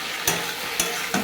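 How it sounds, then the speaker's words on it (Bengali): Pointed gourd and potatoes are stir-fried in a hot pan. A steady sizzle runs throughout, broken by three sharp scraping stirs of the spatula at roughly even intervals, close and alone. "মিশিয়ে একটু ভাজা ভাজা করে"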